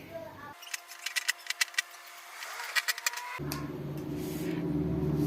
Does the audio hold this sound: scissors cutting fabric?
yes